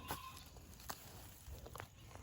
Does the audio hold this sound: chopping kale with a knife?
no